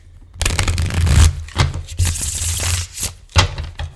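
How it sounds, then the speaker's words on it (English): A tarot card deck riffle-shuffled by hand, several crisp, close fluttering bursts of cards with brief taps and pauses between them, with no talk. "Here, I'll do it again just for fun because it's so satisfying after these other crappy decks."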